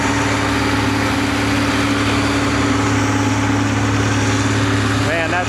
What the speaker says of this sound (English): Check out the Steiger, and that's a cat-powered Steiger too